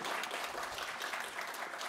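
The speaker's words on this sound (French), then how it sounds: "on peut les applaudir." Faint applause from a live podcast recording audience closing a segment on NFTs, a soft continuous patter of many hands heard at a distance.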